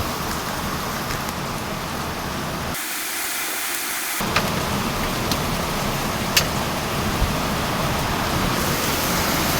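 Heavy rain pours down as a dense, constant hiss with no let-up. It briefly thins for a moment partway through before the full downpour returns.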